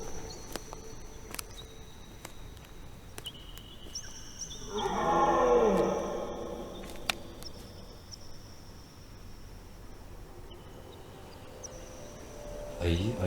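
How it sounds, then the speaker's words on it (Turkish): In the horror video game I Saw Black Clouds, a deep bear-like animal roar rises out of a dark forest ambience with chirping insects, swelling for a couple of seconds before fading back into the eerie backdrop. "Ayı sesine benziyor."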